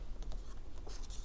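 A pen or marker scratches out a word on a paper flashcard in a few short, faint strokes, close up, with no talking.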